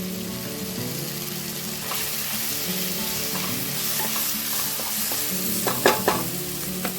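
Tomato and onion with added pepper and fennel seeds sizzle steadily in a pan, with occasional stirring scrapes and a couple of sharper clinks near the end; no talking.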